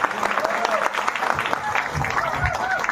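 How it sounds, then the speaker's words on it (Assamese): Audience applause at a small church gathering after a short play, a dense steady patter of clapping for three seconds with murmured voices mixed in. "সকলোকে এওঁলোকৰ কাৰণে হাত তালি মাৰিবলৈ অনুৰোধ জনালোঁ"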